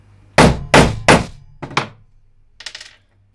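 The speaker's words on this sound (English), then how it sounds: "Quick bang, and that's a turret going in, no bother." Sharp hammer blows seating a metal turret terminal into a circuit board with a setting tool, three loud close bangs in quick succession, then two lighter taps and a faint clatter.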